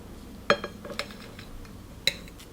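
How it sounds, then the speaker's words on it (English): A knife slices through a long lipstick, giving a few sharp, light clinks and taps close by, set apart by short pauses against a quiet background. "Starting with this long lipstick right here and just going for a knife and basically just cut it off"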